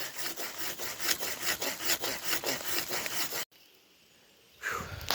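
A Wolverine folding saw cuts through logs outdoors on a camping trip, with rhythmic back-and-forth rasping strokes, close and fairly loud, then a brief pause before sawing resumes.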